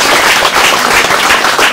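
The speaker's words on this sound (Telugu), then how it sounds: "గట్టిగా మీరు అందరు కూడా చప్పట్లు కొట్టాలి ఒక్కసారి గట్టిగా" An audience at a campus annual day celebration claps loudly and steadily, a dense wash of applause filling the whole moment with no voices over it.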